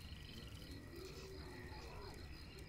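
Gurgling, croaking growl of a Boomer zombie in Left 4 Dead, a low wet rumble running through the clip beneath steady game ambience.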